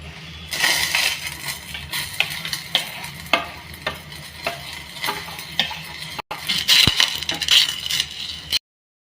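Vermicelli goes into a cooking pot and is stirred, with a spoon knocking repeatedly against the metal over a low sizzle. The clinks come in an uneven rhythm, then the sound cuts off abruptly.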